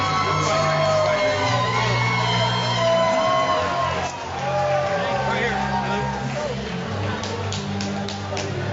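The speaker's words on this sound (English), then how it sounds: "Very vocal crowd here" Loud crowd at an MMA event in the Grady Cole Center, Charlotte, North Carolina, shouting, yelling and whooping continuously in a dense roaring babble throughout.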